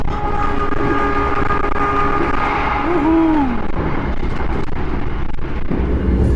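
KA Malabar passenger train pulling into Tulung Agung station, a loud continuous rumble of rolling wagons with a wavering horn or brake squeal rising and falling midway, heard close up.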